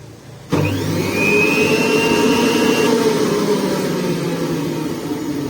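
A JUILIST 600W stainless steel blender kicks on abruptly at speed one and holds a loud, steady motor whine with a rising tonal note, running alone without voices.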